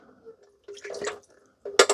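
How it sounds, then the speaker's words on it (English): Dirty water is emptied from the tank of a Shark ThermoCharge 2900 hot water mop, giving short splashing, dripping bursts of liquid with pauses in between, close by. "I'm going to just empty it out to show you, but there's the dirty water tank"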